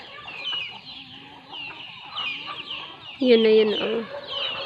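A mother hen with her fourteen newly hatched chicks, clucking and peeping in short repeated bursts close by, with a louder cluck late on and a voice speaking briefly over them.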